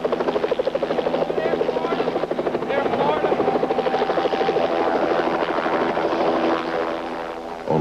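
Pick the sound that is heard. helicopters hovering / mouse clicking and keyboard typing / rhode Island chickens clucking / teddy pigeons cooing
helicopters hovering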